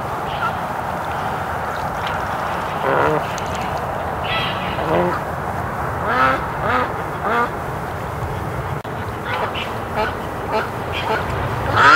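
Ducks in a pen quack repeatedly from close by, with scattered overlapping calls across a steady outdoor background while a person talks over them.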